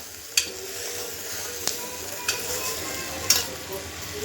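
Khichdi stirred in a pan, a steady low sizzle running throughout with a few sharp scraping clicks of the spoon against the metal, close and clear, no talking.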